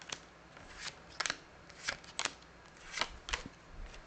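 Tarot of the Abyss cards get shuffled in a series of quick, close, crisp papery snaps and riffles, fairly soft and spaced unevenly, with no talking.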